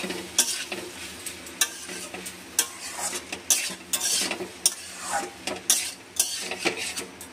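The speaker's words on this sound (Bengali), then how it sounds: "তো এবার অরিগানোটা দিয়ে দিচ্ছি, দিয়ে এবার একটু নেড়ে নিচ্ছি ভালোভাবে" Chili pasta with oregano stirred in a pan with the gas already switched off, a utensil scraping and clinking against the pan in steady repeated strokes over a faint sizzle, close and clear with no talking.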